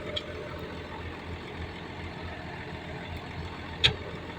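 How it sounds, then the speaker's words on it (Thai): A large tractor's engine rumbles steadily at moderate distance, running continuously with a brief sharp knock near the end. "คู่ใหญ่จริงรถไถเนี่ย"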